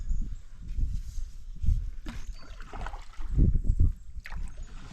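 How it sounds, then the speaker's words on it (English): A canoe paddled solo through a boggy stretch of Noganosh Lake in September, with irregular low splashing and sloshing paddle strokes close by, some bursts louder than others. "Lots and lots of this bog to paddle around."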